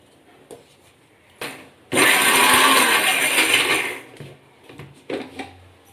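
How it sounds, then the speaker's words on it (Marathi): A kitchen mixer grinder whirs loudly for about two seconds while grinding leftover coconut for a tempering, framed by softer clattering and handling of the jar before and after. "ते मिस्करचं भांडं घेतलं आहे त्याच्यात मी जे राहिलेलं खोबरं होतं ते फोडणीसाठी वाटून घेत आहे"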